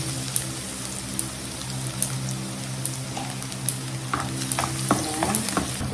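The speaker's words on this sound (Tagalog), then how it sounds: "nagpapainit na ako ng frying pan. So, ibigisa na natin" Onion sautéing in a heated frying pan, a steady low sizzle with light stirring clicks and scrapes, close and alone without talk.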